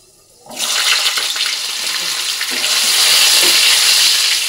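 Potato pieces dropped into hot oil burst into a loud, steady sizzle that starts abruptly after a brief quiet moment and keeps hissing close-up, with faint stirring underneath, during home cooking in a Bengali kitchen.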